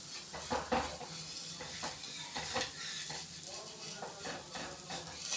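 Dosa batter cooks on an Indolium dosa griddle with a steady soft sizzle and occasional scrapes of a spatula against the metal, close and moderately quiet.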